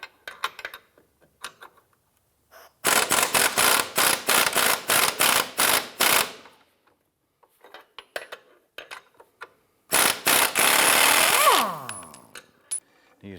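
Rapid metallic ratcheting bursts from a wrench loosening control arm bolts on a 2005–2007 Ford 500, two long runs of fast clicks separated by quiet, the second ending with a clink as the bolt comes free.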